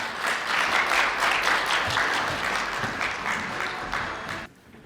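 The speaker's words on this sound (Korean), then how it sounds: "다시 한번 따뜻한 박수 부탁드리겠습니다" Sustained applause from the audience at a quantum AI keynote concert, steady and dense across the room before cutting off near the end.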